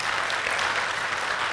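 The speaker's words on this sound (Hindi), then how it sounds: "फिर से जोर से ताली बजाएं" Steady broadband clapping from an audience filling a class hall at a spiritual gathering, continuous and fairly loud throughout with no clear pauses.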